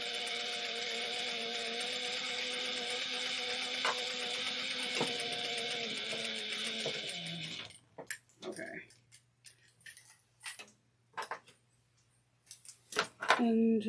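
A sewing machine runs steadily for several seconds while top stitching fabric seams, then stops and gives way to brief handling noises and short bursts of stitching.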